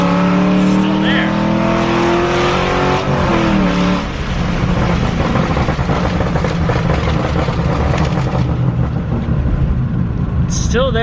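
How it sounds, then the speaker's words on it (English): A car fitted with a Lito Performance popcorn tune revs loudly up close, its engine note rising and falling through shifts with pops crackling between gears. A voice talks over it. "even when I'm shifting, there's a pop between the shift, which is super cool."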